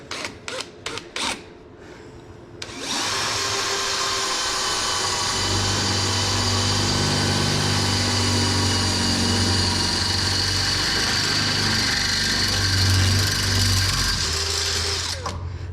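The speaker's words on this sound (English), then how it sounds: "if you've never drilled much before, you got to use quite a bit of pressure to get cutting" A power drill bores through a dry carbon-fiber front splitter on a Mustang GT350R, a steady, loud whine running unbroken for about thirteen seconds after a few short clicks and taps at the start.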